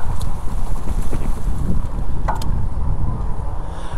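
Strong wind buffets the microphone during an e-bike ride through a state park, a loud rumbling gusty roar filling the whole clip with a few faint clicks and rattles.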